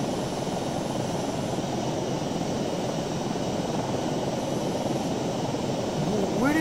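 Airplane engine from the PacSim flight simulator game drones continuously, a loud steady broadband roar with no one speaking.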